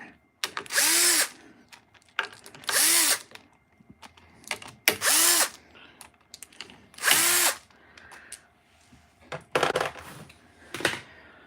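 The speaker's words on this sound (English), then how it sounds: "I want to get a couple more years out of my little drill here." A small power drill whirs in several short bursts, each a second or so long, separated by brief pauses with light handling clatter.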